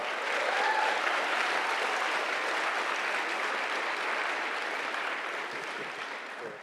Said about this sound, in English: A huge round of applause to everyone.